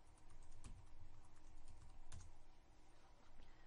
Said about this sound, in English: I'll go ahead and log in with the username and put in the password.